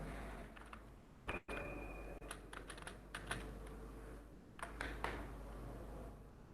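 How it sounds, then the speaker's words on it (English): Keys tapped on a computer keyboard in an irregular run of light clicks, with a few sharper strikes and short pauses between bursts, close and quiet with no one speaking. "I am going to first of all type the multiply sign in front of you"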